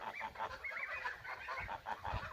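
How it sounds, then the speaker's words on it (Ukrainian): Two-month-old goslings honk and squawk in quick, repeated bursts while chasing younger goslings, fairly close and busy, with no talking. "Старші гусенята двохмісячні, ганяють меншеньких."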